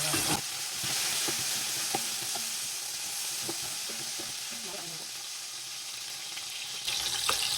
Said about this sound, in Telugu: నేను మ్యాగ్నేట్ చేసుకున్న చికెన్ వేస్తున్నాను.